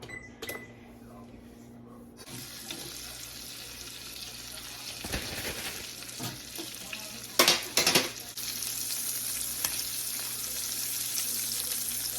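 A steady frying-pan sizzle rises after a quiet start and continues under a few sharp metallic clanks and scrapes of utensils against the pan, as food is pan seared in a home kitchen.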